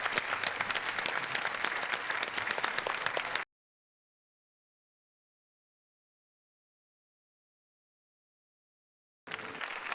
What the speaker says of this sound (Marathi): एकदा जोरदार टाळ्या या मंचतर्फे आपण वाजूयात